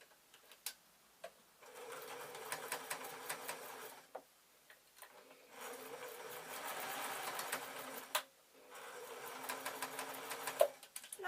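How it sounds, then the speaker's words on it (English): A domestic sewing machine stitches a fabric shoulder bag in several short bursts of rapid, rhythmic mechanical clatter separated by pauses, quiet and close. "Give it a couple more stitches."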